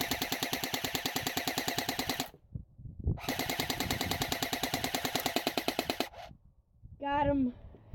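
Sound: gun test-fired in full auto

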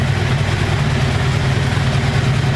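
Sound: 1984 Honda Saber VF700S motorcycle engine idling

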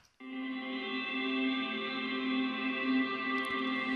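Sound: guitar picking with 100% wet large-room reverb

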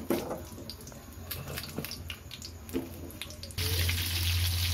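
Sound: bitter gourd pieces frying in hot oil

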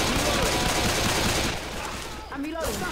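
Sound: gunfire in the video game Left 4 Dead 2

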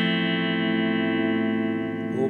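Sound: electric guitar with crunch overdrive on BOSS ME-25 multi-effects

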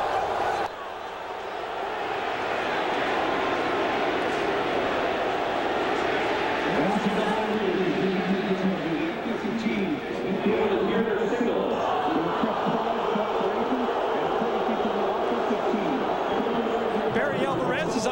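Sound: stadium crowd noise at college football game

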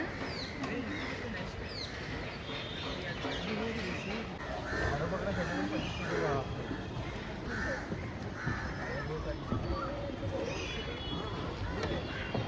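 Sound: crow cawing

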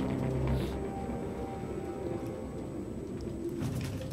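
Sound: pigeon cooing in video game Detroit: Become Human

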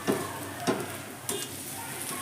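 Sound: potatoes frying in a wok

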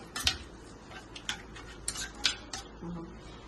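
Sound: mixing and mashing chili powder, turmeric and salt in oil

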